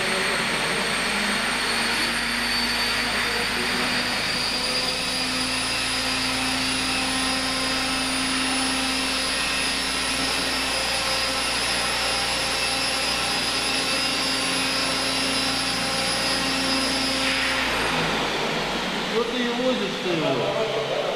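A 550-size model helicopter's rotor and motor whine steadily at high pitch for a long stretch, loud and close, on its first flight after a crash, then spin down near the end. The helicopter shakes in flight.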